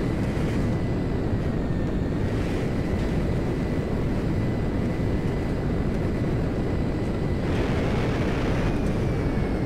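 A JF-17 Thunder fighter jet landing in GTA 5, heard as a steady, loud, broadband engine roar and rushing air, with faint rising whines that swell and fade across the span.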